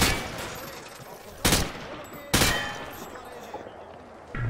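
Rifle fired from the hip at range targets in Call of Duty Modern Warfare 2: two loud, sharp gunshot bursts with echoing tails, a fainter pop near the end, over a steady game ambience.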